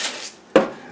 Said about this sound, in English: so I'll grind a little salt on it